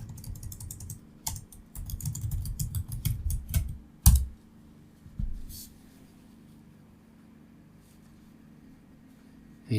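Typing on a computer keyboard, close and brisk, with rapid key clicks for several seconds, one louder key strike after that, then a few sparse taps before the room goes quiet, no talking.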